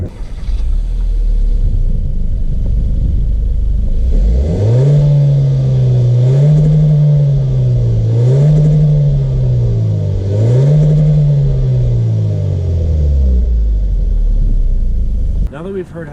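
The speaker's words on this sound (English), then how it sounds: "let's go to the back and get a nice compact SUV exhaust clip." Exhaust of a 2018 Hyundai Kona compact SUV, idling low and steady before being revved several times in rising and falling swells, then settling back, loud and close with no talk.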